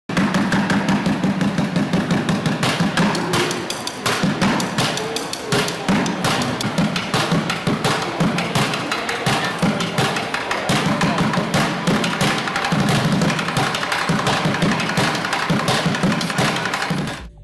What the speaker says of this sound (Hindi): यह आदमी सिर्फ 2 ड्रम स्टिक्स और कुछ खाली बाल्टियों का इस्तेमाल करके कमाल